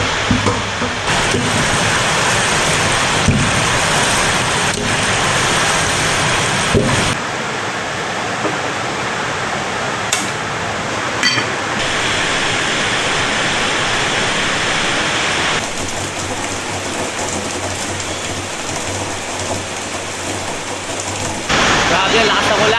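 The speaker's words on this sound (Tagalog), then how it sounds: "Grabe, lakas ng ulan." Heavy rain pours down in a dense, continuous roar that shifts slightly in intensity throughout, with no clear breaks.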